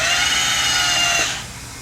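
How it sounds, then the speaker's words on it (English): Electric starter on a KTM 450 XCF dirt bike with a faulty sprag clutch freewheel, heard close up as a high, steady whirring whine that spins freely for over a second, then quickly winds down and fades. "That is the sound of the clutch freewheel, like the clutch on the freewheel, the Sprag clutch on the freewheel not working."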